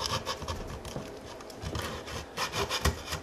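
Fine-grit sandpaper of about 320 to 400 rubbed across the wooden top of a custom Thinline Telecaster guitar, quiet close scratchy strokes in an uneven back-and-forth rhythm with no voices.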